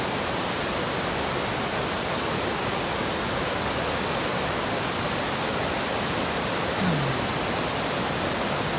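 Mouse Creek Falls, a waterfall roughly 50 to 60 feet tall, pours with a constant dense roar, broad and unbroken, heard close with no other sounds over it.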